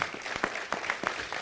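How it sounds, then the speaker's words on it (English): Brief applause from an audience at a city council meeting: a short burst of scattered hand claps, moderately loud, lasting about a second. "Let's give him a round of applause as he comes."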